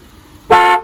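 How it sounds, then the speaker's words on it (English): A car horn gives one loud, short honk of about half a second in traffic after a brief lull. Nothing else is heard, and no other horns join in. "The sound of multiple car horns is common all around the world"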